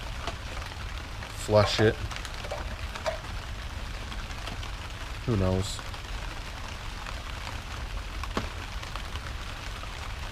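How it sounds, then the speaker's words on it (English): Steady rain falls outdoors around a 1991 Ford F350 mid Cat 3126 engine swap, a broad continuous patter under brief speech, with a couple of short mechanical bursts. "It's raining out, in case you couldn't tell."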